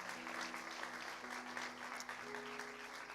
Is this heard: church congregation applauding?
yes